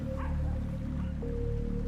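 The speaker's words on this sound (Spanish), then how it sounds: "los perros de las casas más próximas ladraban y aullaban" Dogs from nearby houses bark and howl at night, a brief muffled yip and bow-wow over a steady droning hum and rain-like hiss, with no talking.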